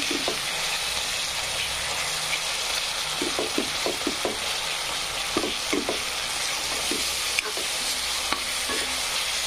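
Sprout usal gravy with tomato and spices frying in a pan, a dense, loud sizzle with a series of clinking, scraping stirs in clusters, close up and without speech.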